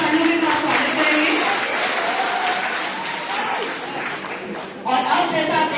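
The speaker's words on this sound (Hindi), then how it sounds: "कृपया इनका जोरदार तालियों के साथ स्वागत करेंगे।" Loud, sustained applause from a large audience at a college orientation program welcomes Professor Mohammad Nizamuddin Rizvi, secretary of the teachers' association, dipping briefly before swelling again, with a voice speaking over it.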